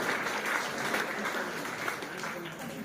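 An audience claps together at a motivational talk program, producing a steady wash of moderately faint applause that continues evenly throughout.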